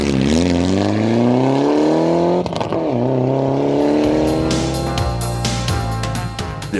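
A rally car at full throttle on a wheat-field stage at the privately owned Kisima farm during the 2009 KCB Safari Rally in Kenya, engine loud and close, rising through gears with a sharp shift break, then revving on as it passes.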